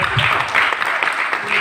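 Church congregation clapping hands together, a brief burst of dense, loud applause, with voices mixed in.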